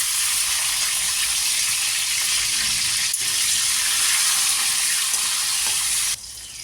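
Chopped tomato hitting hot oil spiced with cinnamon and bay leaves, a loud steady sizzle and frying hiss that runs continuously, close up, dropping slightly near the end.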